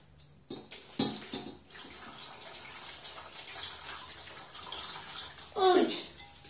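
Water pouring into a soup pot while cooking Újházi-style soup on a lit stove, a steady splashing gush running through most of the stretch with a louder burst near the end, no talk over it.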